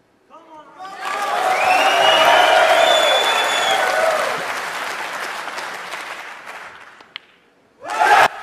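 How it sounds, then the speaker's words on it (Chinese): Audience in a snooker arena erupting into loud applause and cheering after the final black ball drops to complete a 147 maximum break by Ronnie O'Sullivan, swelling quickly and fading out over several seconds before a brief burst returns. "随着黑球的落袋，观众席上响起了热烈的欢呼声。"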